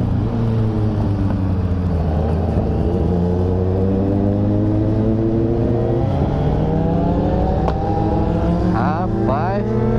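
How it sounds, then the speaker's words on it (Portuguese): A motorcycle engine runs loud and steady with sustained revving and rough, crackling exhaust pops, a deep continuous drone filling the scene while other bikes are nearby. "A moto do Lucas pipoca demais"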